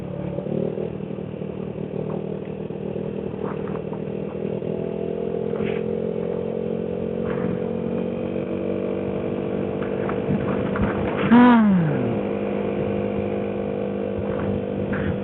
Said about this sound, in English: A very loud scooter